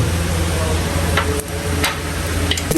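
Lachha paratha frying in ghee in a pan, a steady close sizzle under a hum, with a few brief scraping stirs and clinks; no talking.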